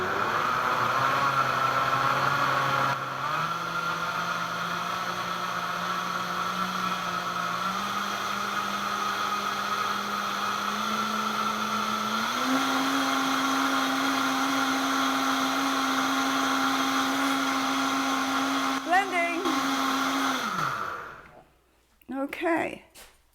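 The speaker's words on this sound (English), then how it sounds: "I take it slow with the speed of the blender" A blender motor whirs continuously while blending pumpkin apple coconut soup, stepping up in pitch several times as the speed increases, then winds down and stops near the end.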